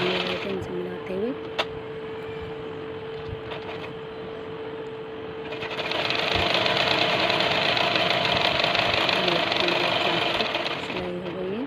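A sewing machine stitches suit fabric with a steady, close mechanical whir that runs throughout and grows louder and busier in the second half, with a voice speaking over it.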